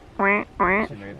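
Two loud, nasal quacks from a duck by a pond close by, followed by a softer third call.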